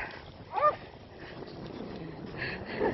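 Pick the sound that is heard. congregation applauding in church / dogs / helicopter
dogs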